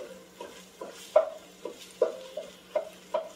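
A wooden spoon scrapes and breaks up ground meat browning in a pan, giving soft rhythmic strokes roughly every half second over a quiet sizzle, heard close and alone.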